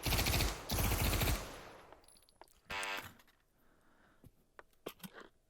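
PPSh submachine gun with a fire selector fired in a VR shooter, a dense automatic burst followed by a second burst, then a mechanical rattle and a few scattered clicks and single shots.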